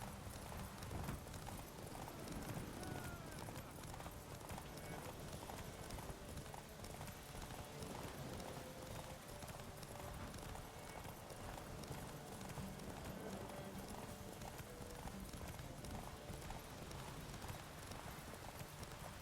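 Horse hooves galloping at a steady rapid rhythm in the Witcher 3 video game, a continuous clip-clop over ambient game sound, with a brief spoken urging at the start.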